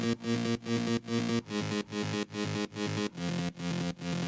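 A solo synth bass layer from the Flex plugin in FL Studio, playing a pulsing, gated pattern of repeated notes with sharp rhythmic cuts about every half second, loud and alone with no voices.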